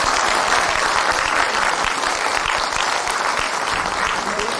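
Loud, steady applause from an audience after two children's performances at the first Three Kings procession in Opatów, dense clapping filling the whole stretch without a break.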